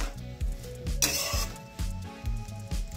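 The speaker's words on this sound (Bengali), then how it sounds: "এরপর একটি খুন্তির সাহায্যে ভালোভাবে সেগুলিকে নেড়ে নেব।" A spatula stirs grated carrots in a pan for carrot halwa with milk, giving repeated rhythmic scraping and clinking strokes close up, with a faint sizzle underneath and no voices.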